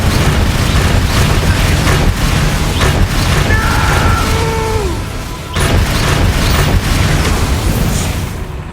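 Incendio fire spell cast repeatedly in the Hogwarts Legacy video game, loud booming bursts and roaring crackle in a dense, continuous battle din, with brief whistling effects in the middle.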